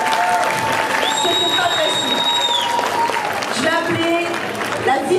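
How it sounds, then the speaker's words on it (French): Audience at the TGS Occitanie 2019 cosplay contest claps and cheers for the reigning champion, dense steady applause filling the hall while an amplified voice speaks over it. "donc on peut l'applaudir encore plus"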